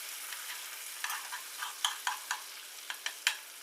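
Butter sizzles and spatters in a hot pan as a steak is basted with melted butter and garlic, a steady close frying hiss broken by sharp pops and spoon scrapes.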